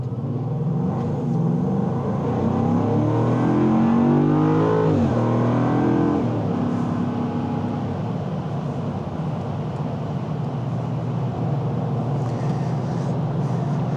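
Land Rover Defender 110 V8 cruising on the highway at about 65 mph: a steady, broad cabin rumble of road and tire noise with low engine drone, even and continuous throughout.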